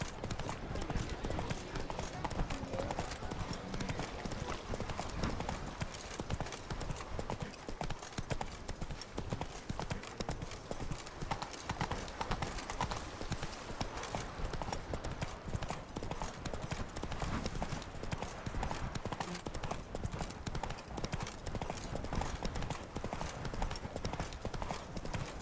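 A horse is ridden in The Witcher video game, its hooves clip-clopping in a steady, continuous rhythm for the whole stretch, loud and close, with some faint voices mixed in.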